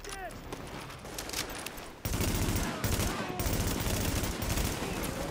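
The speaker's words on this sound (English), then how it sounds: "JTF under heavy fire at the park on first." Heavy gunfire in the video game The Division: dense, continuous bursts of automatic shots and fusillades, growing louder midway, with game voices and distant chatter mixed in.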